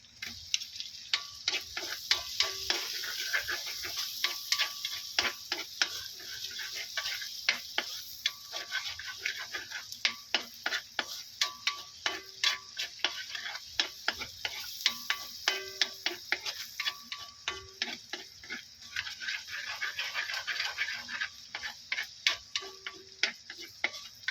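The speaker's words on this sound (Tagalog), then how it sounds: "Habang tinutunaw natin yung butter, ilagay na po natin yung ating bawang." Garlic goes into a pan of melting butter, heard as a steady stream of rapid, close ticking pops and light sizzle, fairly soft and continuous, with no talk.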